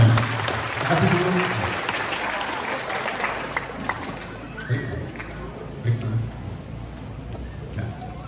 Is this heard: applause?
yes